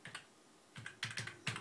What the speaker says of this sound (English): we're typing